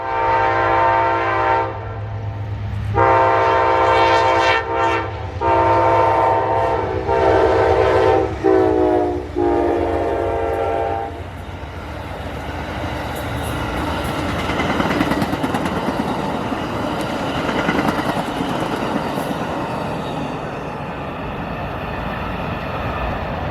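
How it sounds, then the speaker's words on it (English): Amtrak's northbound Silver Meteor passenger train passes near Jesup, Georgia, sounding several loud, sustained horn blasts before the horn stops and the rumble and rattle of the passing cars take over. "Next up would be Amtrak northbound Silver Meteor PO98 as it heads for its next station stop in Jessup, Georgia, along its way to New York City."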